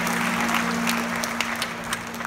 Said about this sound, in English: And so give a round of applause for them.